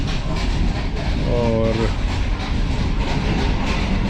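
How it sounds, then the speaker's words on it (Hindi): Aboard a Pakistani passenger train with new Chinese-built coaches approaching Rawalpindi railway station, the steady loud rumble and rattle of the carriage fills the clip, with a brief tone partway through and someone speaking briefly. "ट्रेन हमारी रावलपिंडी रेलवे स्टेशन से अप्रोच बनाएगी थोड़ी देर में"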